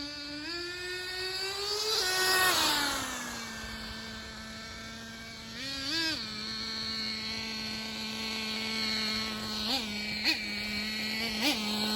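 A Traxxas Nitro 4-Tec 3.3 RC car's nitro engine screams close by during a speed run, its pitch climbing and dropping as it shifts and revs, with brief throttle blips near the end.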